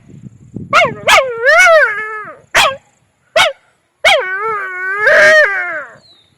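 A voice imitates an angry dog provoked by a thrown stone, a close, loud series of barks, yelps and drawn-out howling whines in uneven bursts with short silent gaps between them.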